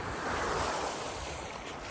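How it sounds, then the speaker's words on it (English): Sea waves splash and wash ashore at a holiday beach, a close, steady surf roar mixed with wind buffeting the microphone. "Hear the sea splash."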